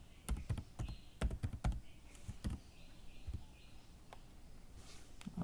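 Computer keyboard typing in a username and password, a quiet close run of irregular key clicks in short bursts, some quick clusters and some single taps, with no voices.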